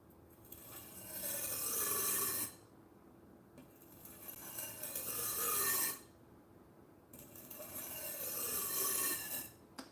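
A 30-plus-year-old vintage Chinese chef's knife is drawn across a sharpening stone in three long, slow strokes, a close rasping scrape with short quiet gaps between passes and no talking.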